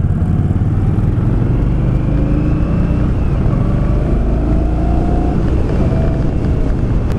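A 2018 Indian Scout motorcycle engine while riding at around 2,700 to 2,900 RPM, a steady loud drone with rising and falling engine tones under constant wind rush.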